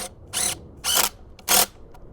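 A power drill drives a screw into a tilting antenna mast support in three short whirring bursts, each about a quarter second long, with pauses between them and faint clicks in the gaps.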